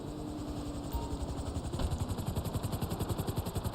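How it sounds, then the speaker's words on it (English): The Hunter helicopter in GTA Online starts as a whirring engine whine, then its rotor thumps in a fast, even, pulsing beat that grows louder and closer. "The Hunter's a great helicopter."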